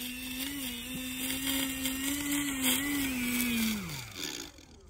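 An E-flite Extra 300 RC airplane's electric motor whines at a steady high pitch as the plane runs through longish grass, then drops sharply in pitch and fades as the power eases off near the end.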